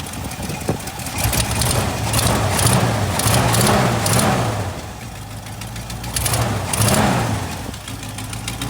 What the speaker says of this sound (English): Listen to that exhaust leak though.